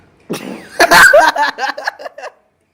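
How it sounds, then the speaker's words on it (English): A short, sputtering fart breaks out after a brief voiced noise, trailing off in a rapid series of fluttering bursts. "You just farted."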